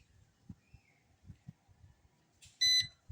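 A short burst of a high electronic beep from a KF101 Max-S drone during compass calibration, a quick warbling tone lasting under half a second, standing out over faint low rumbling handling noise.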